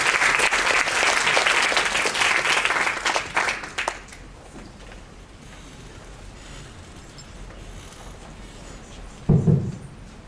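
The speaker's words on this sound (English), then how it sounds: "A round of applause" An audience applauds loudly and steadily at a food workshop event for about four seconds, then the clapping fades to quiet room tone before a brief low thump.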